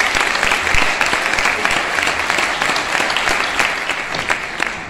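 A crowd breaks into sustained applause at the San Valentín de Oro event in Torrejón, many hands clapping densely and loudly throughout, with a faint murmur of voices underneath.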